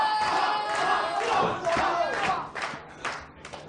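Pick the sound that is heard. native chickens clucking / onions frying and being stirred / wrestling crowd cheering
wrestling crowd cheering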